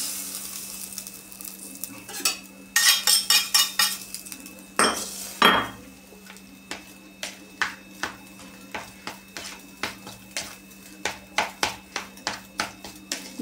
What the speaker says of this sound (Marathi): गरम आहे म्हणून मी चमच्याने मिक्स करते.